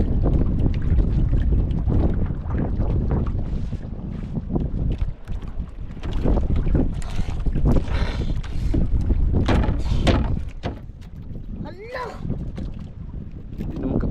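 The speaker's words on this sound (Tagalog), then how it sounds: "Paikot-ikot yung hangin." Strong wind roars and buffets the microphone in heavy continuous gusts out on open water, with voices talking beneath it.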